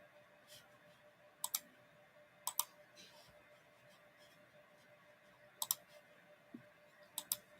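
A computer mouse clicks in quick double taps, sharp and close, in scattered pairs against a quiet room background, with no talking.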